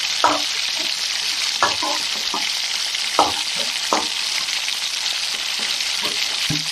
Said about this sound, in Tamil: தக்காளி வதங்கிருச்சு இப்போ நம்ம கருவேப்பிலையை போடுறோம்